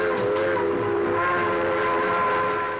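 A train runs on an early subway rail line into Grand Central Station, with sustained, steady whistle-like tones held over a low rumble that stays loud throughout.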